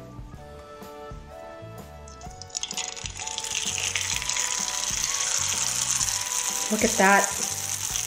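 Rice paper hitting super hot oil, a loud broadband sizzle and crackle that bursts in partway through and builds into a steady hiss, with a sharper flare near the end, under a brief spoken remark.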